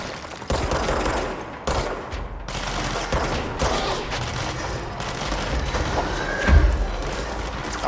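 Rapid bursts of in-game gunfire from the action video game Control fill the clip, loud and sustained with a heavier boom near the end, no speech over it.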